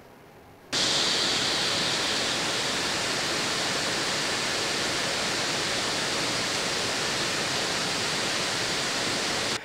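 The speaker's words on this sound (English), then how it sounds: "the problem with the turbo fan mode is that it can get quite noisy, to say the least" Fans of an ASUS ROG Strix Scar 18 2023 gaming laptop in turbo mode kick in suddenly and hold a loud, steady, broadband whoosh with a slight high whine, close and with no talking.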